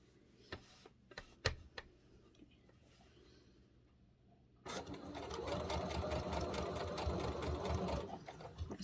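A household sewing machine works fabric for a sock cat toy: faint scattered clicks and taps at first, then the motor kicks in with a steady, close, rapid ticking run for the remaining seconds.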